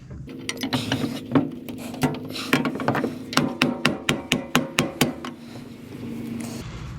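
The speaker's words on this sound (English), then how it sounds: "It's an all metal hammer." An all-metal welded hammer strikes scrap metal in a quick run of sharp, ringing clanks, starting sparse and then speeding into a steady, close series of about a dozen hits before stopping.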